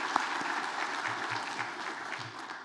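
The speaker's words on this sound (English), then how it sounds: "So with that little preview of applause" Audience at a guest lecture on Ansel Adams claps together in a steady round of applause, a dense wash of many hands at moderate distance, continuous and unbroken throughout with no talk over it.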